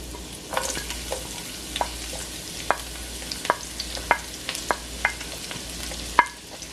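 Onion and garlic sauté in a pan as the base of a Caribbean lentil soup. A low continuous sizzle sits under sharp clicks and taps from stirring against the pan, with no talking.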